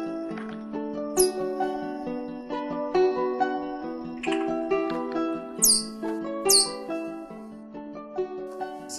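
Cheetah cubs chirp repeatedly up close, high squeaky calls rising and falling in quick bursts, with a few sharper piercing chirps among them.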